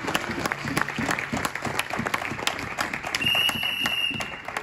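Church congregation applauding during a Sunday sermon, sustained clapping of moderate loudness with a few scattered sharper claps, heard without speech.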